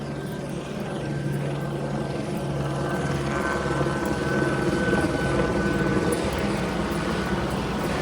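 Helicopter flying overhead in a residential neighborhood, a steady rotor throb and engine whine that swells slightly louder midway as it passes, continuous with no talking.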